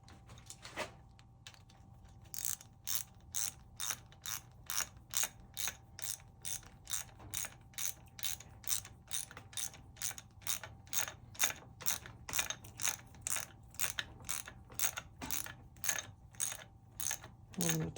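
A ratchet tightens down a gear selector tab, with a long run of evenly spaced clicks close up and fairly quiet.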